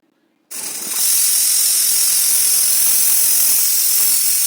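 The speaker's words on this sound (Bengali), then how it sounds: "প্রেশার কুকারের ঢাকনা লাগিয়ে আমি কিছুক্ষণ ওয়েট করব 3টে সিটি বাজার অপেক্ষায়" A pressure cooker of bottle gourd and shrimp lets off steam: a loud, steady hiss bursts on abruptly and holds unbroken for about four seconds, with no voices.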